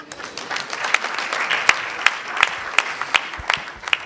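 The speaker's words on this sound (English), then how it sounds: "Clap." Audience members at the NSMQ 2025 national championship launch applaud, a soft wash of clapping punctuated by several sharp, distinct hand claps at fairly regular intervals.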